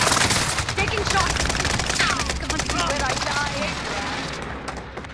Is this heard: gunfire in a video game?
yes